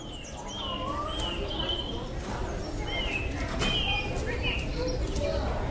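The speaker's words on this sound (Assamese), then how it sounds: "এই চৰাইটোৱে কি বুলি মাতিছে" Bird calls sound out in an outdoor setting: several short chirps and warbling notes scattered over a steady background hum, with faint distant voices in places.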